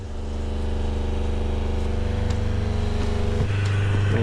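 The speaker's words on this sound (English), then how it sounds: "Okay, so I can turn my water pump on." A van's fresh water pump running, a steady low electric hum and drone that holds throughout, shifting to a higher-pitched whine near the end, with no talking.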